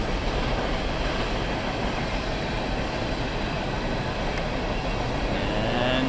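A train passes behind a baseball field during an 8th grade game, a steady, fairly loud rumbling roll that stays even throughout with no talk over it.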